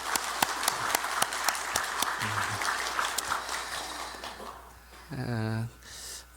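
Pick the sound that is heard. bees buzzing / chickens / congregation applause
congregation applause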